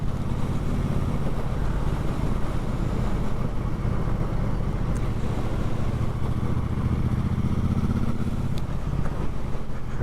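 A Triumph Bobber motorcycle rides through country lanes near the village of Longford in the Peak District, its engine a steady, continuous rumble from start to finish.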